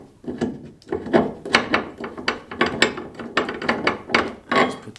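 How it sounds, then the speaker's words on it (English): A bracket being threaded onto a car with an Allen wrench, giving a series of quick ratcheting clicks and metallic turns in uneven bursts, close and fairly loud, with no talking. "Grab that Allen head, and then slowly thread that onto there."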